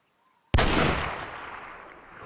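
A single 7mm PRC rifle shot in the hunting game Way of the Hunter: one sharp, loud report that rings out and decays slowly over about two seconds, heard alone with no talk.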